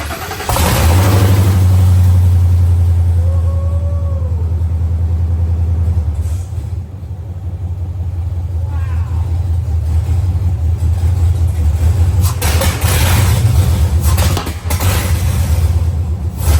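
A Ford F100 from 1964 with a 7.3 Godzilla V8 and Kooks headers fires up and settles into a loud, deep, close-up idle, with several throttle blips swelling the rumble.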